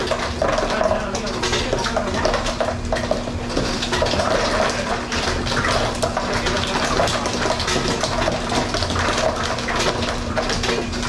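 Steady rush of running water filling inside a Hoshizaki ice machine in freeze mode, with a low constant hum and faint clinking, close and continuous.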